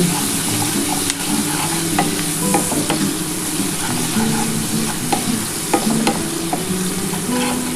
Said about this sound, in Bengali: দিয়ে ভালো করে ভেজে নিতে হবে পেঁয়াজটাকে